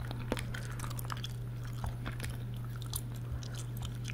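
Minty gum is chewed close to the mic, with a steady stream of soft wet smacks and squishy bites over a constant low hum, and no talk.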